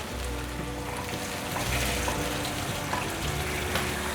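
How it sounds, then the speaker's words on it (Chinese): Soybean sprouts and abalone mushrooms dropped into a pot of boiling water, giving a steady rushing, bubbling wash that holds at an even level throughout. "水滚了，放入黄豆芽菜、鲍鱼菇，把它烫熟"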